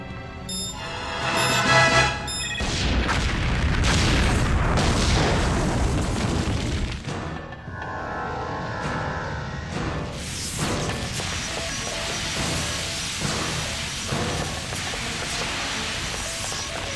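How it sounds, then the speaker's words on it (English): A loud, sustained roaring explosion in a spacecraft's engineering access corridor in an animated series, with crashing debris, followed by rumbling and scattered bangs that continue for many seconds. "Explosion in engineering access corridor 47B"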